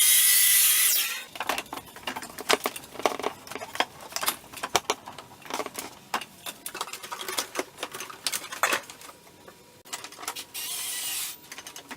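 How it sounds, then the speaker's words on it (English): A miter saw cuts a length of 2-inch pipe, a loud, brief motor roar at the start that gives way to scattered clicks, taps and handling noise. "it'll be much easier to cut here at the miter saw because I can get nice and square"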